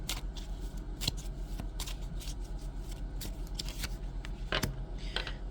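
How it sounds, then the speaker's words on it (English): A tarot deck is shuffled by hand in a quiet room, giving repeated crisp riffling snaps and soft card slides in an irregular rhythm, close and fairly faint. "off with the cards and just see what comes out with like the regular or my new deck that I made"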